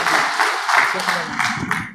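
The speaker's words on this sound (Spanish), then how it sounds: "Así que ahora damos fuertes aplausos al Padre Rafael, quien va a hacer la oración" Applause from an audience at a Vincentian studies week gathering, a short burst of clapping mixed with murmuring voices, moderately loud and continuous for a couple of seconds.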